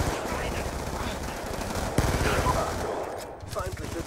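Rapid automatic gunfire in a Black Ops II multiplayer match, dense bursts of shots running nearly continuously at close range with game ambience and a voice occasionally under the firing.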